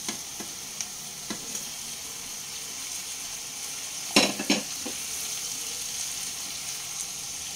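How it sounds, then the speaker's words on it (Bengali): Pre-fried fish pieces for chilli fish are stir-fried with onions in a pan, giving a soft, steady sizzle with a few light stirring scrapes and a sharper clatter midway. "আগে থেকে ভেজে রাখা মাছগুলো দিয়ে দেব।"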